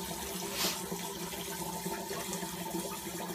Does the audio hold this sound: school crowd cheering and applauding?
no